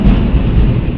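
Close thunder from nearby lightning during a storm, a loud, dense low rumble that fills the whole second without letup and with no voices.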